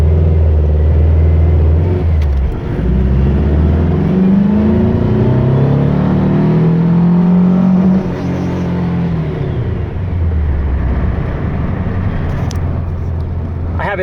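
A small multi-cylinder engine with pulse jet ignition revs up on a test run, a steady loud drone climbing in pitch, holding, then dropping back to idle before rising again.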